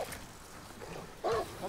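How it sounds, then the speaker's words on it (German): A dog in the Far Cry 6 video game gives a short bark or yelp near the end, after a stretch of quieter growling and background game sound. "Oh nein, da kommt ein Hund."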